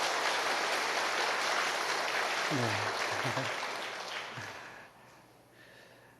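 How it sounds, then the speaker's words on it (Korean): A church congregation applauds in blessing for its elders, broad sustained clapping filling the room before thinning out, with a brief low voice and a spoken word near the end. "우리 큰 축복의 박수로 격려하겠습니다"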